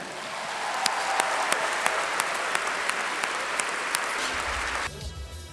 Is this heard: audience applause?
yes